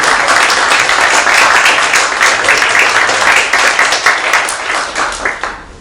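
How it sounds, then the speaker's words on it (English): An audience claps for a long, dense stretch, loud and continuous, slowly thinning toward the close. "Well, applause for"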